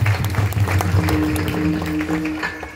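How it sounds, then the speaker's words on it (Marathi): A temple crowd gives a round of clapping for Sanju Mankapure during a Ram Navami week programme at the Vitthal temple in Hupari, with sustained tones from instruments or the sound system in the background. "त्या महाराज संजू मानकापुरे त्यांच्यासाठी पण एकदा टाळ्या वाजवा"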